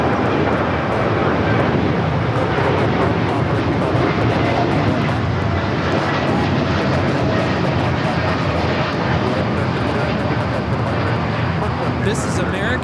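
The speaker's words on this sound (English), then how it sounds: "3249 taking off to Chicago on the 787-9 Dreamliner" An American Airlines Boeing 787-9 Dreamliner takes off with a continuous, dense engine roar at constant loudness, while speech runs intermittently underneath.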